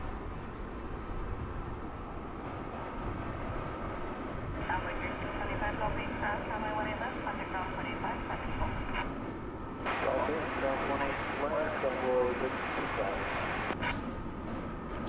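Jet airliner taking off from DFW airport at night bound for Chicago: a broad, steady engine roar that swells louder in the second half, with a person talking over it.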